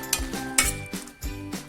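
Spoon scraping and stirring fennel seeds through a hot pan of poha tempering for Kanda Poha, a few distinct clinks and scrapes in an irregular rhythm over a soft background sizzle, close and moderately quiet.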